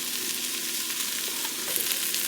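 Chopped zucchini, celery and tomato hit a hot pan for a vegetable tortellini soup and sizzle in a steady, hissing wash with a few light crackles and utensil touches near the end; close and fairly quiet, no talking.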